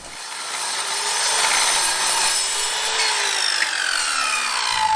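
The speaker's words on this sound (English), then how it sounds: "Luckily, our miter saw should be able to cut to this" A miter saw cuts through heavy steel, a continuous loud grinding, rasping whine that holds steady for the full five seconds with a slowly shifting tone and no speech.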